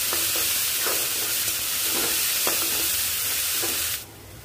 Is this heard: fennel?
yes